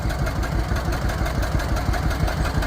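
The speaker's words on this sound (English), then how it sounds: "that putt-putt of that John Deere would just put you right to sleep" A restored 1948 John Deere Model A tractor idles close by, its two-cylinder engine putting out a steady low, rhythmic putt-putt with no talking over it.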